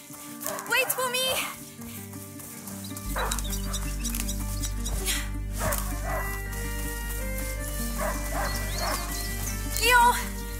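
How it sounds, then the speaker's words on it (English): A hunting dog barks repeatedly in A Plague Tale: Innocence, several sharp yips and barks scattered across a low droning game soundscape, with a voice speaking at the start. "A hunting dog is not supposed to lose its hunter."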